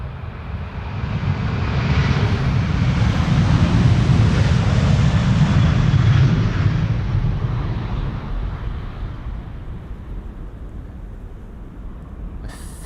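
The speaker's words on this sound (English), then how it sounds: "I think the A330s are louder for bystanders when they're spooling up right at the beginning." A KLM Airbus A330-300 jet's engines spool up for departure at Schiphol, a deep, loud roar that swells over several seconds, peaks, then eases into a steady fading rumble with no voices.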